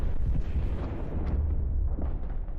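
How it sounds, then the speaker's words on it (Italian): Giant red cannon firing in a video game trailer: a loud, sustained deep rumble with booming low-end blasts that runs the whole time, with no clear separate shots. "Però è bello il cannone rosso gigantesco."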